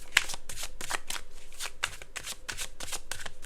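Tarot cards shuffled by hand before a reading, a steady run of quick riffling papery flutters and soft slaps, close and moderately quiet, with no talk.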